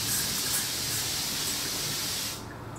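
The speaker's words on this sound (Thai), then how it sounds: "ชอบสเปรย์แบบสเปรย์วนเงี้ยค่ะ วนแล้วก็มาจบตรงกลางหน้าแบบนี้นะคะ" A mineral water face mist spray hisses in a steady continuous burst as it is swept in circles over a face, then cuts off abruptly near the end.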